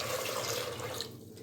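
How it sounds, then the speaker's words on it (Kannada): Water pours into a pressure cooker holding washed, soaked rajma beans, making a brief, steady splashing rush that quiets at the end. "ಈಗ ಕಾಳು ಮುಳುಗೋ ಅಷ್ಟು ನೀರು ಹಾಕ್ಬಿಡೋಣ."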